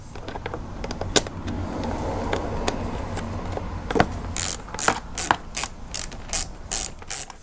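A ratchet wrench tightens bolts on a Wunderlich headlight protector for a BMW F750GS motorcycle, first as scattered single clicks, then as a steady run of sharp, close ratcheting strokes with no talk.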